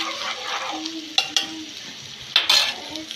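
Potatoes fry in a pan with a soft, continuous sizzle, broken by a few sharp scrapes and clatters of a spatula stirring them close by.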